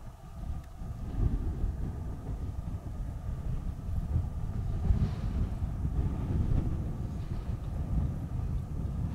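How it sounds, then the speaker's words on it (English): Strong wind on the UK coast buffets the microphone in a continuous low rumble that swells and eases slightly over about nine seconds, with no voices. "Gosh, it's windy."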